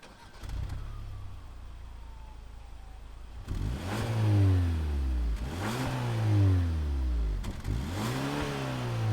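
A 2021 Kia K5 GT turbo engine cranks and catches, settles into idle, then is revved three times in a steady rhythm, each rev swelling and falling back, heard fairly close outdoors.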